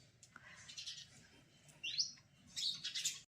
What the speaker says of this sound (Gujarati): જો ખાવા માટે ચકલીઓ આવી ગઈ છે